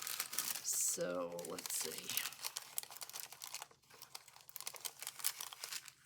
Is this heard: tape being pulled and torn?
yes